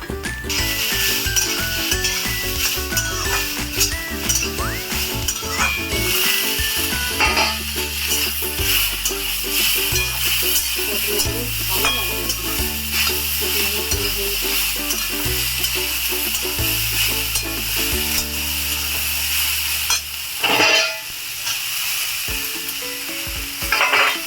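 Fried potatoes, onion, prawns and coconut paste are stirred in an oily pan, with a continuous close sizzle under a steady melodic tune playing throughout.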